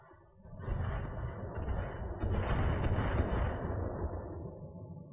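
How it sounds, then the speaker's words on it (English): Missiles explode in the mech combat game Battletech, a swelling, rumbling barrage of blasts that rises sharply and then holds loud for several seconds. "We got missiles from downtown."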